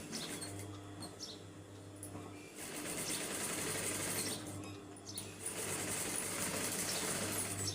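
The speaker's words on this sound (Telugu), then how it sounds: "ఓపెన్ చేయకుండానే ఇలా స్టిచ్ చేస్తున్నాను." A sewing machine runs steadily while hand-cut fabric is stitched, its quiet, even whir and mechanical chatter continuing throughout with slight swells in loudness and no voices.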